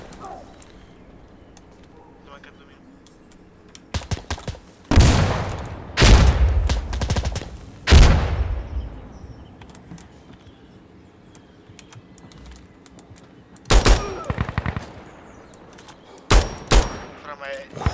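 Gunfire in the video game Insurgency Sandstorm: loud, close bursts of shots in separate clusters with quiet stretches between them, mixed with the clicking of a keyboard.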